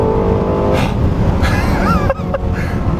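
A Lexus LFA's V12 engine revs hard and close, a loud, shrill howl that climbs in pitch, dips briefly between gear changes, then surges again.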